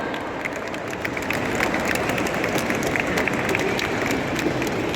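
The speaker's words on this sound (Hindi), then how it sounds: "इन सब के लिए जोरदार तालियां हो जाए एक बार।" An audience at a World Cancer Day awareness program in Jammu claps steadily for several seconds, a dense, sustained round of applause that swells slightly and holds.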